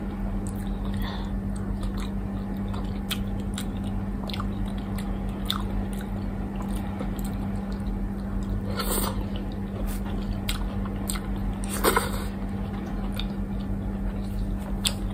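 Chewing and biting on salmon sinigang, a sour Filipino soup, with rice at a mukbang meal: soft, wet mastication sounds run steadily under a constant low electrical hum, with a couple of sharper bites.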